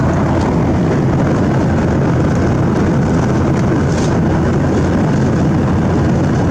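Steady, loud engine drone fills an airplane cabin in flight, a continuous broadband roar with no breaks and no voices.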